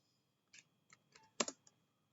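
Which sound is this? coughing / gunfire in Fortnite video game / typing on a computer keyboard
typing on a computer keyboard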